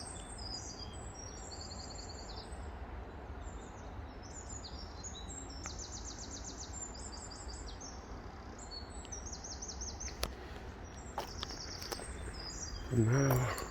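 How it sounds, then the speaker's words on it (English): Many birds chirp and twitter continuously in the distance over a steady outdoor hum, with a brief nearby rustle near the end. "when I'm not making a noise, you can hear the birds"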